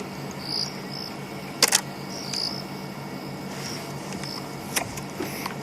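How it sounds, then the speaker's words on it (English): Crickets and other insects trill steadily through a night in the African bush, with a high constant chirr over quiet ambience and a couple of brief sharp clicks. "You can see all the bugs buzzing around her, attracted by our lights."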